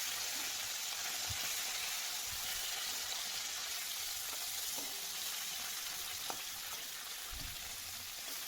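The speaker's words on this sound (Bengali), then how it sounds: "এই যে ময়া মাছগুলো দিয়ে দিলাম, তবে আর একটু তেল দিলে বেশ ভালো হতো, নাহলে ভাজা হবে না" Moya fish frying in oil in a kadai gives a steady, close sizzle throughout, with occasional soft knocks and stirring sounds over the continuous hiss.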